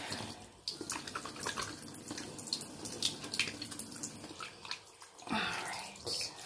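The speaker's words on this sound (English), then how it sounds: "Then wash your hands after that." Running water splashes from a tap as hands are rubbed and washed beneath it, a close, uneven patter and trickle that swells near the end, with no voices.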